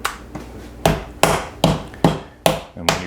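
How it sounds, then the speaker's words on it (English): Meat mallet pounding boneless center-cut pork flat, eight sharp separate thuds at a steady, slightly uneven pace, close and loud with nothing else heard. "now we're going to pound it flat to between 1/4 and 3/8 of an"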